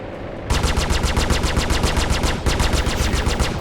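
Sustained rapid machine-gun fire from ship weapons in the space game Star Citizen, a loud, continuous, evenly pulsing stream of shots with a brief stutter near the middle, no voices over it.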